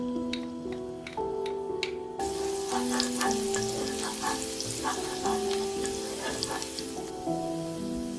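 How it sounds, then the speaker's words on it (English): Minced garlic sautéing in hot oil in a non-stick skillet over medium-high heat, a steady close sizzle that jumps louder after about two seconds, with a constant hum of tones in the background and no talk. "Heat some oil in a non-stick skillet over medium-high heat. Add the minced garlic and sauté until fragrant."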